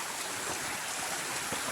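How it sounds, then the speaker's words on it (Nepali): A small hill stream in a village rushes and splashes in a dense, continuous wash of water noise while being crossed on foot, steady and close, with no voices. "सानो तिनो खोला तर्दै ठिक परिरहेको छ हामीलाई त"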